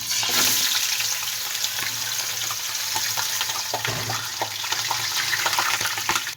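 Loud, steady sizzle and hiss as about a kilo of mutton goes into hot oil in a karahi, a broad crackling rush that stays strong and even throughout.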